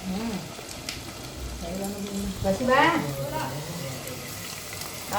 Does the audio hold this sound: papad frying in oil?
yes